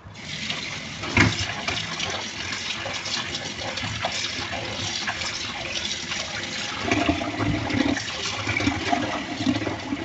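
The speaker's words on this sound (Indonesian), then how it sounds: "baru kita bilas pakai air bersih sampai nanti pepayanya nggak lengket-lengket lagi gitu" Clean water runs and splashes over grated papaya being rinsed in a kitchen, a continuous close gushing flow with surging bursts and sloshing throughout.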